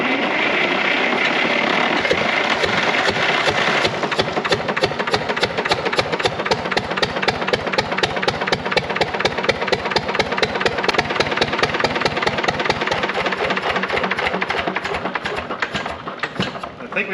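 An air-cooled Lister diesel engine fires up and settles into a steady, loud idle with a fast, even chugging beat that holds for the whole stretch, heard close with no talking over it.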